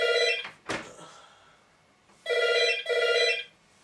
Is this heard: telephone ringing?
yes